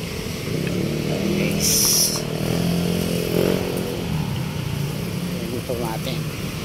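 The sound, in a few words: motorcycle at a parking area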